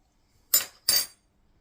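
A spoon in a pot of chili made with ground turkey, pork and beef gives two sharp, close metallic clinks in quick succession, each with a short ringing tail, against near silence.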